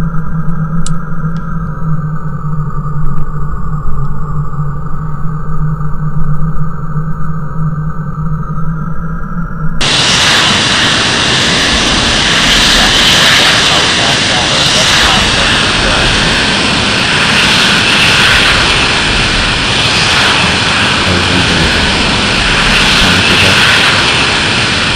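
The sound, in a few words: F-16C jet taxiing out of hangar, Falcon 4 video game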